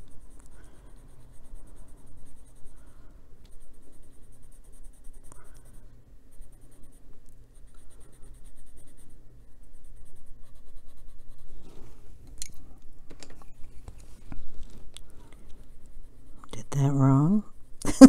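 Colored pencils scratch steadily across paper during adult coloring of a twilight garden scene with a sleeping fox, a soft close-up scribbling that runs quietly throughout, with brief voiced sounds near the end.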